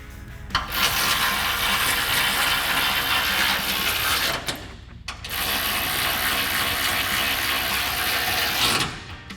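Ratchet tightening exhaust clamp bolts on a Jeep Gladiator JT dual exhaust install, fast continuous clicking close up in two long runs separated by a brief pause.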